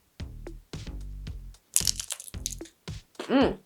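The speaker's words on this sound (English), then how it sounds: "That crunch." Bites into homemade tostado nachos make crisp, close crunches in short bursts, alternating with brief murmured vocal sounds between bites.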